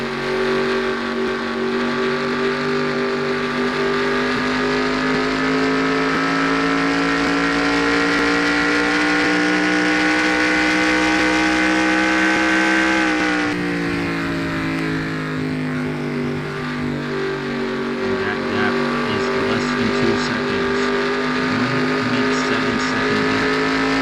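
Stock race cars roaring at Charlotte Motor Speedway, a loud steady multi-engine drone with rising pitch, then a sudden dip and climb as the pack sweeps by, with a commentator's voice faintly underneath.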